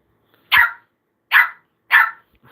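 A puppy gives three separate, sharp barks at a steady pace, close and clear, in an indoor room where people are reading a book aloud to young children.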